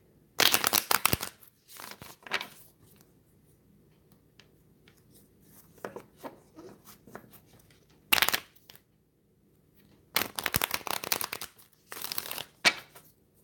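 Tarot cards being shuffled in several separate bursts of crisp riffling and flicking, close and fairly loud, with quiet gaps between them and no talking.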